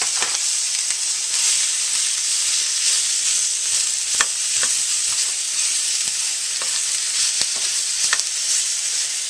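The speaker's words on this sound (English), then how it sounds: "Place these mushrooms in the pan." Mushrooms and onions sauté in a pan with a constant bright sizzle, punctuated by scattered sharp clicks and scrapes from stirring.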